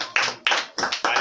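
Claps from a worshipping congregation greeting the preacher, four distinct bursts of hand clapping in a loose rhythm, close and moderately loud.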